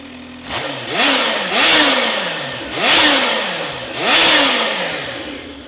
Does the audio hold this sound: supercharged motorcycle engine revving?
yes